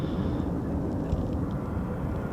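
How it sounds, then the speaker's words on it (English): Eurofighter Typhoon jet taking off from RAF Coningsby, a steady, loud broadband engine roar that holds constant throughout, as if the aircraft is close and under full power on the runway. "There's our first 3 takeoffs of the morning."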